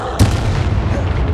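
A Confringo spell blasts in Hogwarts Legacy, a sharp loud crack followed by a heavy rumbling boom that sustains under the game's dense ambient noise.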